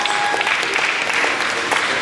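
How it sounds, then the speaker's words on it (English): A county fair crowd applauds for Jimmy, a brief burst of dense, continuous clapping from many people filling the whole moment. "Give Jimmy a big round of applause."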